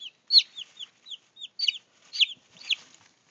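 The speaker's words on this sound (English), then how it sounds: "I'm just a normal chicken." A Brahma chicken gives a run of short clucking calls, about eight quick bursts over a few seconds, close and moderately loud, the last few louder and rougher.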